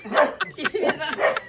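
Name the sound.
dog barking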